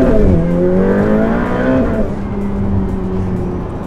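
A Ferrari F8 sports car engine roars loudly and climbs in pitch as it accelerates, then settles into a steady, high drone.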